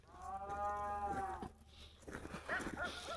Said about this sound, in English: Wow, we got cows pretty close.